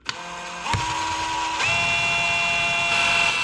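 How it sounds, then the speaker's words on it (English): A high-pitched motorized whine runs steadily, stepping up in pitch twice as a small drill spins up and bites into the metal of a Stihl 025 chainsaw piston. "We're going to start our windows with a drill."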